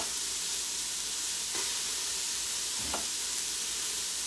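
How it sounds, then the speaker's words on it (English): Onion and ginger sizzle in a pot at the start of a tomato and squash soup, a constant hiss of frying with two brief stirring clatters and no voices. "I'm letting the onion and the ginger cook first"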